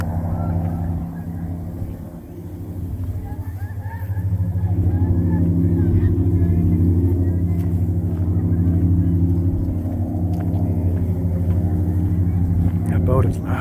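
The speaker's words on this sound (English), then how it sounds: "That boat is loud." Loud motorboat engine droning steadily on the Rio Grande near Eagle Pass, a low rumble that swells after a few seconds and holds, with people talking over it.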